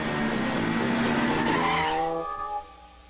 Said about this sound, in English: There appears to be a motorcycle on the racetrack.